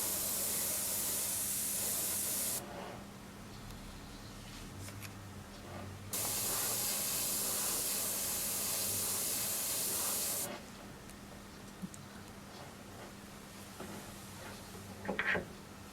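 Spray paint hisses through a stencil onto leather in two long, close bursts separated by quiet pauses. Soft handling noises come between and after the bursts.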